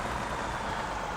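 A farm vehicle's engine in Farming Simulator 17 drones steadily and loudly, a dense unbroken rumble with no pauses or talk.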